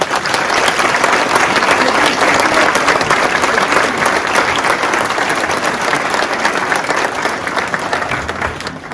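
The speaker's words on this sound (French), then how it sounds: "J'aimerais qu'on les applaudisse bien fort." An audience at a mayor's New Year wishes ceremony applauding steadily and loudly, dense sustained clapping from a large crowd lasting about nine seconds and tapering slightly toward the end.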